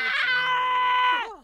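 A Sim character in The Sims 4 lets out a sustained, high-pitched vocal scream lasting over a second, loud and steady before trailing off abruptly at the end, with no other voices present.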